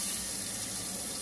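A camper van kitchen sink tap in a Sprinter conversion runs steadily, a continuous close hiss of flowing water throughout with no talking.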